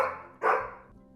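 A princess's beloved dog barks as a bedtime-story sound effect: two close, loud barks in quick succession, the second sharper, then silence.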